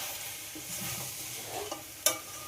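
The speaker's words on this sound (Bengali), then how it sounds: "সব কিছুর সঙ্গে আলুটাকেও কষিয়ে নিতে হবে।" Fried potatoes being sautéed with fish head and masala in a pan, a quiet sizzle with soft stirring scrapes and a sharp utensil knock near the end.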